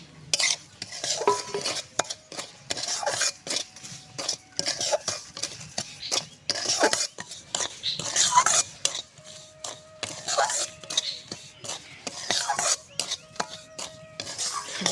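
Semolina frying in white oil with a bay leaf in a hot wok is stirred continuously, with a metal spatula scraping and clinking against the pan in a fast, steady rhythm and a soft sizzle underneath.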